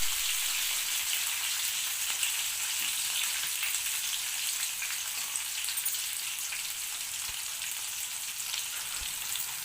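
Chopped green chillies and onion fry in a pan with a steady, even hiss and sizzle that carries on without a break. The sizzling is close and dense, and no one speaks.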